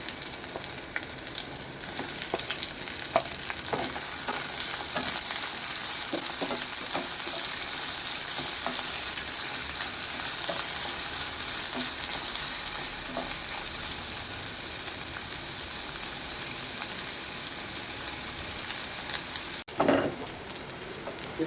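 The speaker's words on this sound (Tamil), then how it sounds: "இப்போ வெங்காயத்தை சேர்த்து வதக்கிக்கலாம்." Onions fry in a pan while making vegetable stew, a steady loud sizzle running throughout with faint stirring scrapes, ending in a brief clatter.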